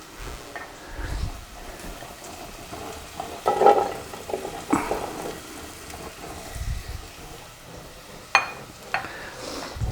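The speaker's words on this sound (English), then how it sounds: "on this pan here, I'm going to saute my okra." Okra sautéing in a pan for a Persian okra stew (khoresht bamieh) gives a soft, steady sizzle with a few sharper clinks and stirring scrapes scattered through it.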